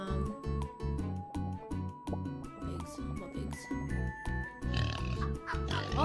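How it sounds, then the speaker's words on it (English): Video game pigs oinking in a steady, rapid rhythm of grunts, repeating loudly throughout with some jingling tones layered on top. "They're way too loud. If someone could deal with those pigs."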